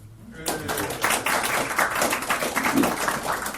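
Audience clapping at a partners' update meeting for an accounting manager, a steady burst of many hands that starts suddenly and continues at an even level to the end.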